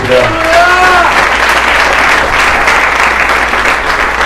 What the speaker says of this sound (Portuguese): Vamos aplaudir a presença dele nesse lugar.